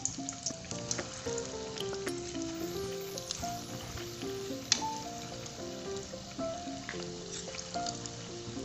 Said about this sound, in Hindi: मैंने चूल्हे पे तेल गरम करने के लिए रखा हुआ है, बस मैं हाथ के हाथ इसे फ्राई कर लूँगी।